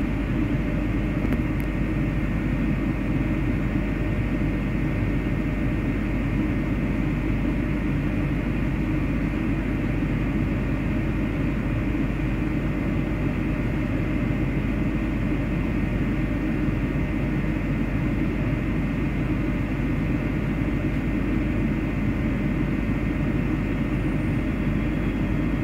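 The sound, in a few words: Lodaya train departing from Bandung station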